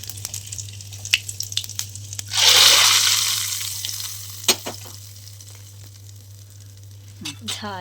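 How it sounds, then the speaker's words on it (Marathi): Cumin seeds and curry leaves hit hot oil for a tempering, bursting into a loud sizzle that peaks then slowly fades, with scattered clinks and stirring taps before and after over a steady low hum. "थोडंसं जिरं आणि त्याची फोडणी देऊया"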